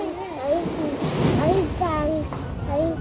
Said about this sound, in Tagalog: malapit na yung alon.